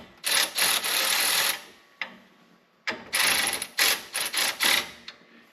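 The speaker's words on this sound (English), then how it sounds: "I'll tighten this just a little, tighten these back up just a smidgen" A ratchet wrench clicks in quick, loud bursts while bolts are snugged on a John Deere 3039R compact tractor, two long runs of rapid pawl ticking separated by a short pause, close up with no talk.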